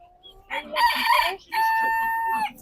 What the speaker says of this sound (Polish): tutaj mamy ten kury